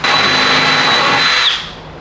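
A power drill whines steadily at high speed, close and loud, then cuts off and winds down near the end, while installing a body kit on a Nissan 240SX.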